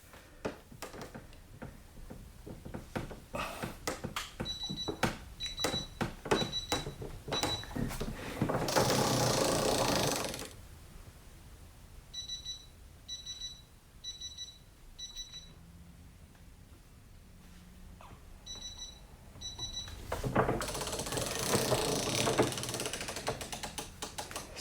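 A Capri Tools 1/2 inch drive flex head ratchet clicks in rapid bursts of fine pawl ticks, close and crisp, separated by pauses and a couple of louder rustling handling noises.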